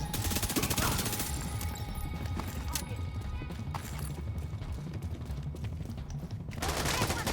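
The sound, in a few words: automatic weapon gunfire in video game The Division 2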